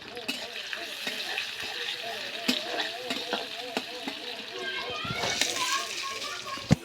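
Chopped onion fries in a pan with bay leaf and cinnamon, giving a continuous close sizzle with occasional stirring clicks. Voices, including children, talk over it throughout.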